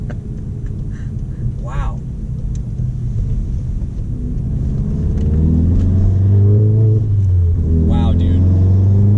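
A Volkswagen Golf R with a manual gearbox accelerates from inside the cabin, its intake and engine building into a loud, rising drone that swells toward the end, with people talking and exclaiming over it.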